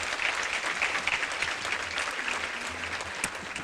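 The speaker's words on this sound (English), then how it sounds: "I think that deserves a round of applause" A luncheon audience at a women's achievement awards event breaks into steady, full applause, a close continuous patter of many hands with little else beneath.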